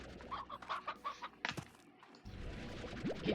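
Hen-hen chickens in the video game Slime Rancher give a short run of soft clucks and squawks over a game soundscape, with a few sharper effect sounds mixed in, moderately quiet.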